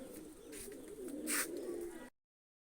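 Kane breed pigeons cooing in a loft, a soft, low, wavering coo repeated close by over quiet background, ending abruptly.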